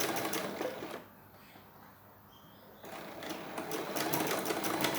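A sewing machine stitches a shirt collar in steady whirring runs that pause briefly before resuming, with a faint voice in the background.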